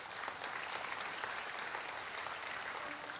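Congregation clapping during a church service, a continuous, fairly faint patter of many hands heard from a distance with little else over it.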